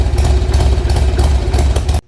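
A Harley-Davidson motorcycle engine needing its idle adjusted runs close and loud with a deep, lumpy, pulsing idle, then cuts off abruptly just before the end.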